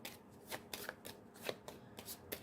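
Tarot cards being shuffled on a table, with a quick run of crisp riffling bursts repeating in an uneven rhythm, close and fairly loud, with no voices.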